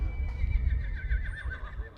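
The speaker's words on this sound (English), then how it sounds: "Your 5-year-old gelding by Secret's Smart Cat." A five-year-old gelding neighs at a rope horse futurity, a long, wavering whinny that is loud and fairly close, set against a dull arena rumble and faint hoof clatter.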